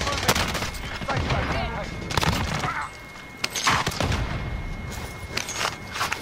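Gunfire in the video game Warzone, with rapid bursts of shots and sharp cracks coming in uneven clusters, some loud and close, others further off, over a busy battle background.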